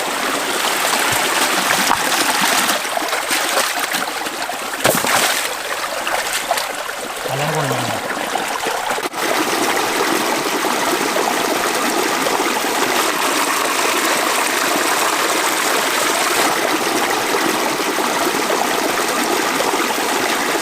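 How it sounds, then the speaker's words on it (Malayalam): Water rushes and splashes over carved stone at a waterfall stream, a loud continuous gushing roar that stays steady for the whole stretch, with a brief low sound partway through. "ഇതാട്ടോ നല്ല അത്യാവശ്യം നല്ല മുടി ഇളക്കുന്ന പോലെ തന്നെ വെള്ളം ചാടിക്കൊണ്ടിരിക്കുകയാണ്"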